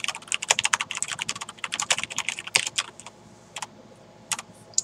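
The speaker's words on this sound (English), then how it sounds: "I will now type "the quick brown fox jumps over a lazy dog" twice, once as fast as I can" Fast typing on a SteelSeries 6Gv2 mechanical keyboard with Cherry MX Black switches, a dense, rapid clatter of close keystrokes that thins into scattered single clicks toward the end.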